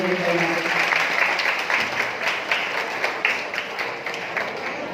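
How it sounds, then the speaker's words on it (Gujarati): An audience at a college prize-giving ceremony applauds loudly and continuously, dense clapping that gradually tapers off a little toward the end. "એકવાર જોરદાર તાળીઓ થઈ જાય"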